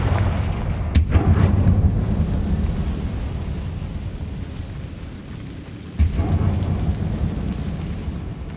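A Confringo blasting curse detonates in the Hogwarts Legacy video game, a loud booming explosion burst near the one-second mark followed by a rumbling tail, with a second sharp blast around six seconds over a steady low rumble.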